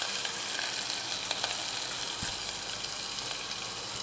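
Small onions fry in hot oil for paruppu kuzhambu, giving a steady, close sizzle with faint crackles and no talking.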